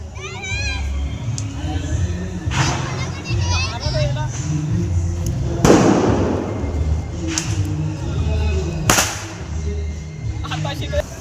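Several sharp Diwali firecracker bangs burst at irregular intervals at dawn, one louder and closer than the rest, over steady crowd chatter and children's voices.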